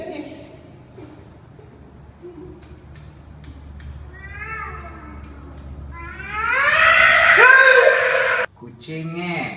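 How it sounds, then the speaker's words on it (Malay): A cat meows several times in rising, drawn-out calls, the loudest and longest near the end, with Malay-speaking voices talking around it. "Betul lah ni kucing kan ni."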